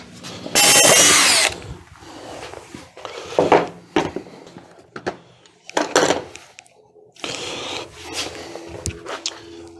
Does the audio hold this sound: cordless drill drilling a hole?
yes